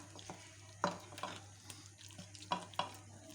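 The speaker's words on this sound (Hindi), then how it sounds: "साथ साथ पानी डालेंगे, साथ साथ मिक्स करेंगे।" A spoon stirs a runny flour batter for egg paratha in a bowl as water is added, giving a few soft wet slaps and scrapes at an uneven pace, close and quiet, with no talking.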